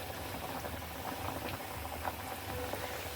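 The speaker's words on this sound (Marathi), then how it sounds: "तेल चांगलं गरम झालं ना की वडे छान एकदम आपोआप वर येतात तेलामध्ये" Chicken vade deep-frying in hot oil, a low, steady bubbling sizzle with soft irregular patters throughout, fairly quiet and with no voices.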